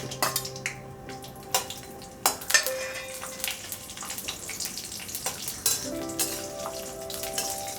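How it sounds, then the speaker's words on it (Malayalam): Cashew nuts frying in ghee in a pan for aval payasam, giving a steady crackling sizzle with sharp snapping pops and spoon stirring, close and moderately loud, with no talking. "ഞാൻ ഓൾറെഡി ചീനച്ചട്ടി വെച്ച് അതിലോട്ട് 2 സ്പൂൺ നെയ്യ് ഒഴിച്ച് ഈ കശുവണ്ടി വറുത്തെടുക്കാൻ പോവുകയാണ്"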